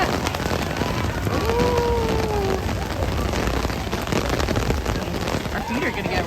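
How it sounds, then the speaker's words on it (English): Heavy rain at Magic Kingdom pours down in a dense, loud, steady hiss under a shelter, with a brief voice exclaiming and faint background sounds. "Oh, that was really raining, guys. Can you hear that?"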